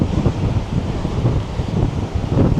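Strong wind blasts across the microphone on a coastal walk at Roca Negra, Tenerife, a loud continuous rumbling roar with gusty swells and no voices.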